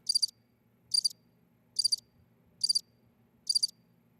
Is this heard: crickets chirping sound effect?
yes